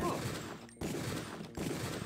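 Gunshots from the video game Deus Ex, with two or three loud, close bursts of firing separated by brief drops, set against a steady background din.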